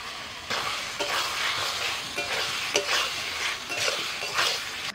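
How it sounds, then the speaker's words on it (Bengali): Fried potato and soybean being stir-fried in a cooked spice paste: a constant close sizzle broken by regular scraping stirs of a utensil against the pan, with no voices. "এবার আমি ভাজা আলু আর সয়াবিনটা দিয়ে দিচ্ছি"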